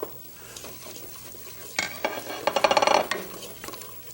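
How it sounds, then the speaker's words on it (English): Cardamom sizzles in butter in a heavy pan, a soft crackle that swells into a burst of busy stirring and spoon scrapes against the metal, close and fairly loud. "Along with our butter, we're going to add our cardamom"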